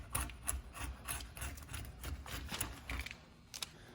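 Residue is scraped by hand off the edge of a countertop before an epoxy coating goes on, giving a run of short, close, rasping strokes in an uneven rhythm that fade toward the end.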